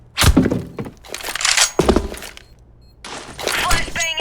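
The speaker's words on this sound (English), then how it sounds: "Flashbang out." Flashbang grenade thrown in Counter-Strike: Global Offensive: loud, close metallic thunks and clattering impacts in several bursts, with an explosive burst that breaks up into bright, crackling debris, and no talking.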